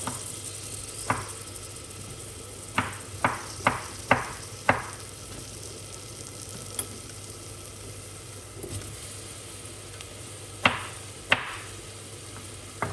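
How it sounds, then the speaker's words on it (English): Steady low sizzling hiss of eggplant frying in a pan, punctuated by sharp utensil clicks and taps at irregular intervals. "So I'm gonna fry them off"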